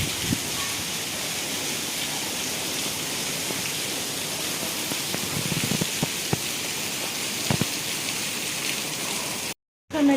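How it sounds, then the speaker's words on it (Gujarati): Torrential rain beats down on surfaces as water floods the area, a steady loud wash with scattered drip and splash transients, cutting out briefly just before the end. "તમને પાછળ અવાજ આવતો જ હોય છે બહુ જ વરસાદ ચાલુ છે"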